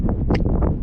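Strong wind buffets a microphone on the summit of Mount Daniel in Washington's Alpine Lakes Wilderness, a loud, continuous low roar with gusty swells.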